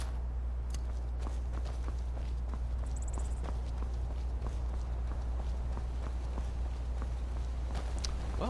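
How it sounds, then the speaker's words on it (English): Companions' running footsteps in the modded video game Skyrim, a steady patter of steps trailing close behind the player over a constant low ambient rumble, with no talk. "Y'all make a lot of noise running behind me."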